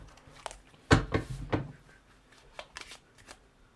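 Cards for the board game Manhattan Project are shuffled by hand nearby: a couple of quick riffles followed by lighter flicks and taps, with no talk.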